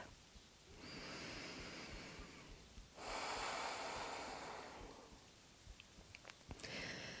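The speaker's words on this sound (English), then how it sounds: "Taking deep breaths in and out through the nose." Slow, deep breaths in and out through the nose during a lower-body yoga stretch, long soft airy swells rising and falling, close but quiet, with a few faint clicks near the end.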